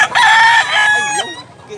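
A yellow-legged bullstag gamecock of medium size gives one loud, close crow that rises, holds, then trails off over about a second and a half.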